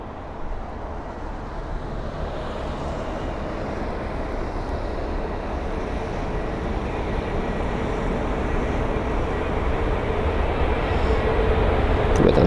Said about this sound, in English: With a nice landing there, really smooth touchdown.